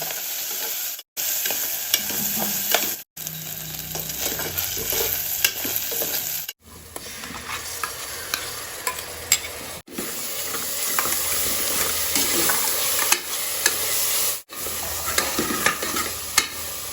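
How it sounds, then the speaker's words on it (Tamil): Boiled prawns stirred while frying in a pan for prawn pulao, a continuous loud sizzle with frequent scraping stirs, interrupted by a few brief cuts to silence. "அடுத்து வேக வைத்த இறாலை 5 நிமிஷம் அளவுக்கு சேர்த்து கிளறி விடுங்க"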